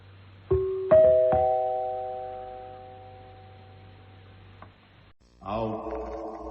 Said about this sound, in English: When you hear the gong, it'll be precisely 9:30.